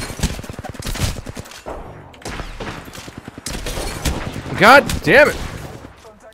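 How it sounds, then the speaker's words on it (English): Peacekeeper shotgun blasts and other gunfire in an Apex Legends match ring out as several sharp bursts, some close and loud, while players talk and one shouts in frustration. "I shot him like 4 times with a freaking peacekeeper"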